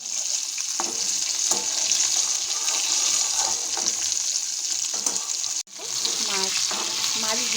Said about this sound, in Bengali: আগে যে তেলটুকু ছিল তার মধ্যেই আমি মাছের মাথাগুলো ভেজে নিলাম কড়া করে